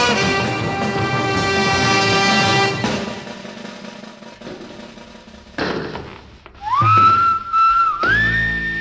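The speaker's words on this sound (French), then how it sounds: "Il marche en sifflotant." A man whistles a tune while walking, the whistled melody rising clearly over a soundtrack of music and a few dull thumps, ending in short bright whistle phrases.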